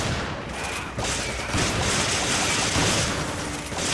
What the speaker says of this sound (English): Keep shooting. Don't stop shooting.